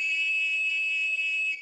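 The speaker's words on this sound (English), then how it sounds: "how much I like the sound of my police whistle" A cartoon police whistle gives one sustained, shrill, steady tone lasting well over a second, alone and clear with no talk.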